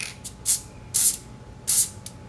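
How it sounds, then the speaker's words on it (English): Aerosol can spraying in three distinct hissing bursts from a short distance while moving a chase sticker between boxes, with small fainter puffs in between and no talking. "You can spray from afar, and it's all good."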